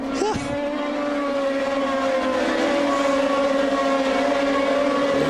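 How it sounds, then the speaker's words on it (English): Formula 3000 race cars on the San Marino circuit in 2002, their engines screaming steadily and loudly at high pitch as they pass, with a brief rising sweep at the start. "Bourdais leads the way through the Villeneuve corner, headed for the uphill sharp left-hander at Tosa."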